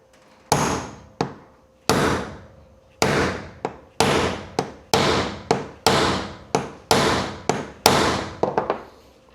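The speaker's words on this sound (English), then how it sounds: "I guess you just smack it with the hammer" Repeated sharp hammer blows on a metal crimp connector, about fifteen loud strikes in an uneven rhythm, some in quick pairs, each ringing briefly.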